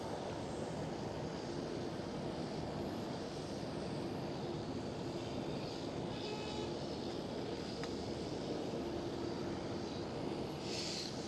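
A KLM Boeing 787-10 waits for pushback at Schiphol, its engines and ground equipment making a constant low airport drone, faint and unchanging, with a brief higher hiss near the end.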